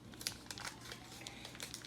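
Aluminium foil being folded and squeezed over a cotton-covered fingernail during home gel polish removal, giving a quiet run of close crinkling and crumpling bursts with no talk.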